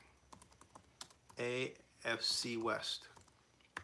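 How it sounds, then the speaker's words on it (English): Scattered quick clicks of typing on a computer keyboard, sparse taps spread throughout, mostly under a man's speech in the middle. "I'm just, you know, typing in things."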